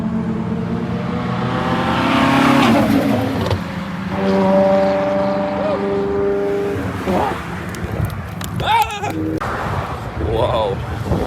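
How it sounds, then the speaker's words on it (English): A Ferrari supercar drives past on a Michigan backroad during a supercar rally. Its engine drone swells, shifts pitch and fades over several seconds while people talk nearby. "Oh, that Ferrari's coming again."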